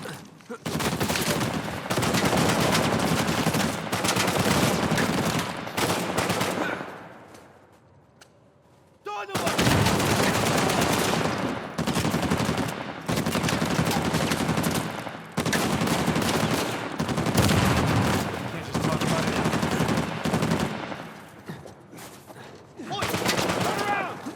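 Bursts of rapid Kalashnikov rifle fire in the video game Uncharted 4, loud and sustained, coming in long volleys with a short lull partway through. Other gunshots and game noise are mixed in among the volleys.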